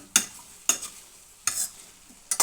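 Cauliflower frying in a pan while being stirred, four short scraping stirs at irregular intervals over a soft, steady sizzle, heard close up with no talk.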